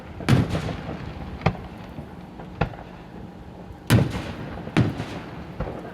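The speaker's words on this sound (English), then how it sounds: "I love how everyone celebrates my birthday with fireworks." Fireworks burst during a birthday celebration: a handful of sharp, loud bangs at irregular intervals, with two or three near and heavy and others smaller, each followed by a brief rumbling tail over faint background noise.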